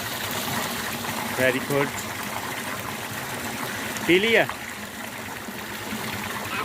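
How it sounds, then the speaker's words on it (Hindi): Water flows out of the ground in a steady outdoor trickle that runs throughout, with brief spoken words from an adult and a child over it. "पानी ज़मीन से आ रहा है बेटा"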